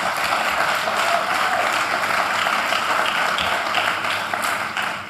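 Audience applause at the launch of the Zuikerbosch 5A water purification plant, a steady, dense clapping that holds loud and even for about five seconds before thinning slightly at the end.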